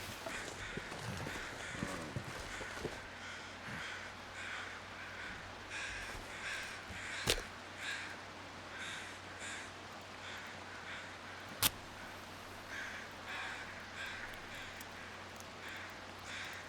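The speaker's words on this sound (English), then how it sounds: "I hear more wolves over there too, or more crows over that direction as well." Crows cawing in the video game The Long Dark: repeated hoarse caws at a moderate distance over a steady outdoor ambience, with two sharp clicks partway through and no talking.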